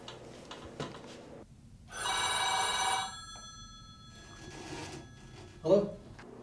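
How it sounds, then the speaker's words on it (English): A telephone bell rings in one steady burst lasting about a second, fairly close and clear in a quiet indoor room, followed by faint rustling and a short vocal sound. "I'll call Jerry"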